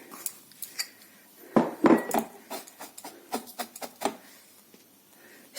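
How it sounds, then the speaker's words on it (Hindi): White sesame seeds roasting in a pan, with irregular scraping and light clinks from stirring, a brief louder cluster midway, fairly close and quiet, no talk. "अब हम सफेद तिल को भूनेंगे।"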